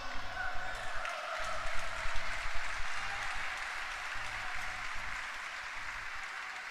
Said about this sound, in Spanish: Mira, y me aplauden, gloria a Dios.